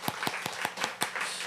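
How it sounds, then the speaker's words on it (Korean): A few people in a church congregation clap during a Sunday service, making around half a dozen sharp, evenly spaced claps that are close and fairly sparse rather than a full round of applause. "박수로 환영해 주시면 좋겠습니다."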